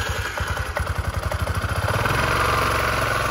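A scooter engine idles with a steady low putter and rhythmic clatter, close by, growing slightly louder and rougher toward the end.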